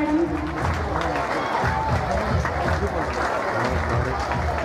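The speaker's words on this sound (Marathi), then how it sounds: "टाळ्या वाजवायच्या विद्यार्थ्यांनी जोरदार" Students clap for a teacher's felicitation at a school ceremony, a steady wash of applause running through the whole stretch with voices and crowd murmur mixed in.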